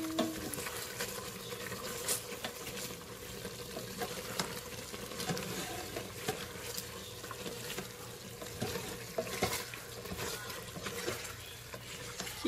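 Garlic and a little oil crackle and sizzle in a pan, a steady soft frying hiss with occasional scraping and stirring clatter, no talking.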